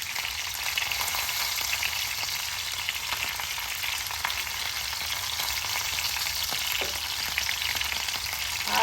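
Cauliflower sizzles in a hot grilling pot beside a large steak, a steady broadband frying hiss running unbroken and fairly close, with faint crackles and pops scattered through it and no voices.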